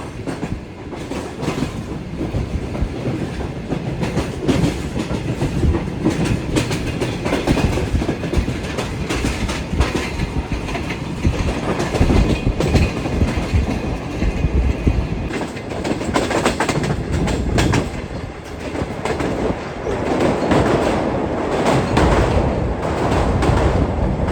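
The Shah Hussain Express passenger train rolls out of Malir toward Karachi on its way to Lahore, heard from onboard as a loud, continuous rumble with rhythmic wheel clatter and rattling carriages throughout.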